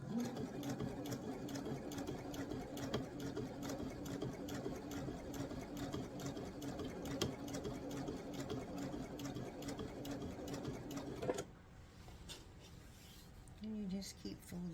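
A sewing machine stitches fabric for a Bali bowl with Duet Fuse, a steady motor whir and rapid needle chatter for about eleven seconds before stopping, leaving quiet handling noises.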